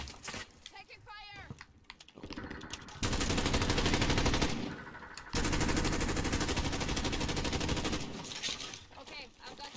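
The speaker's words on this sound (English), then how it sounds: "Taking fire." Rapid gunfire in the Call of Duty Warzone video game, long loud bursts of automatic fire with a few sharper single shots, over busy game noise.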